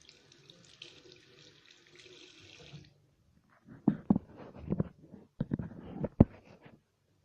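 Hands with facial scrub on them are rinsed under a running bathroom tap, a steady close hiss of water followed by separate splashes and wet knocks as the flow is cut and the hands move.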